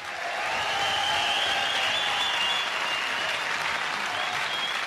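Concert crowd at a 1977 show applauds the lead guitarist, a thick, steady roar of clapping with whistles and cheering threaded through, swelling quickly and holding for several seconds.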